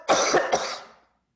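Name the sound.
a person coughing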